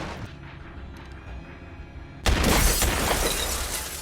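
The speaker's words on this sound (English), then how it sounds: "He sprints toward the building, shoots out the glass lobby doors," Gunshots blast out glass lobby doors in a film scene: after a quiet, low rumbling stretch, a sudden loud crash of shattering glass bursts in and rings out with scattering debris.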